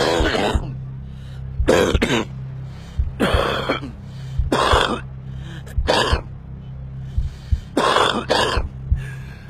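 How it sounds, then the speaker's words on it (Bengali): A smoker's hacking cough comes in repeated harsh bursts, roughly half a dozen loud throaty coughs with throat clearing, close to the listener and separated by brief pauses. "স্মোকার্স কফ, ধূমপাইয়ের কাশি।"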